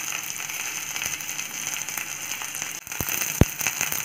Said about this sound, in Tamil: இப்போ எல்லாத்தையும் நல்லா வதக்கி எடுப்போம்.